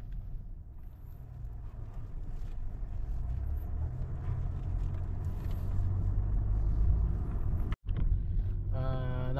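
Steady low rumble inside a moving car on a work commute, loud and continuous throughout, with a short dropout near the end followed by a faint rhythmic ticking.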